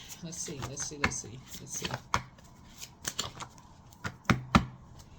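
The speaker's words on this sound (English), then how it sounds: "Y'all see me shuffling the cards." Tarot cards are shuffled by hand in quick, irregular bursts of crisp riffles and taps, close and fairly soft, with a voice murmuring faintly in between.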